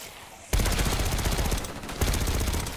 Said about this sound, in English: Let's try the light machine gun out.